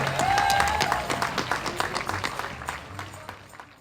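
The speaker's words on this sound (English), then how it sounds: "Could we please give them a round of applause?" A festival crowd at an outdoor jazz event claps in a round of applause that starts strong and gradually thins into scattered, distinct claps, with a faint whistle early on.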